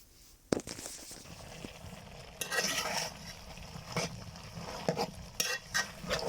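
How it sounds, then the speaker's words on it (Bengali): Ingredients with salt are stirred and fried in a pan, with a steady sizzle and a spoon scraping and clinking against the metal in bursts, no voices. "পরিমাণ মতো লবণ দিয়ে সকল কিছু দিয়ে আমি নেড়ে চেড়ে এগুলাকে একটু ভেজে নিব"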